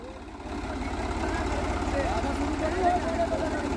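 A Swaraj 735 tractor engine, hitched to an 11-tine cultivator, runs at a steady idle with a low, throbbing rumble. Faint voices sound in the background.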